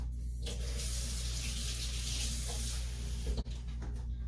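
Water poured from a tap into a blender holding a roasted pumpkin mixture to thin it, a steady close splashing stream lasting nearly the whole moment with a brief thump near the end.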